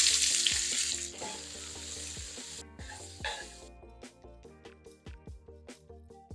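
Carrots, onions and branch celery frying in fat in a pan for a bolognese ragù, a steady close sizzle with clattering stirring and scraping knocks, loud at first and then thinning to sharper intermittent crackles and taps.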